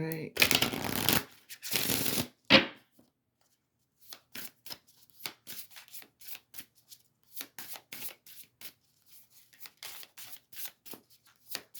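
Oracle cards are shuffled in loud, dense riffling bursts at close range, followed by quieter scattered card flicks and taps while a person speaks softly.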